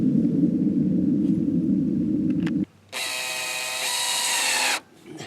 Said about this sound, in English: Putting those first screws in the hinges.